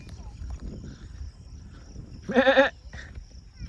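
A goat lets out one short, wavering bleat over a low outdoor background rumble, fairly close.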